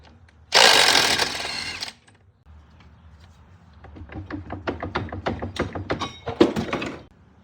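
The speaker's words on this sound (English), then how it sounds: "we're gonna take off this right side hub" Power tool whirs and thunks as the right rear hub comes off a Honda Rancher ATV: a loud burst of impact-gun rattle, then a series of sharp knocks and clanks, close by with no talking.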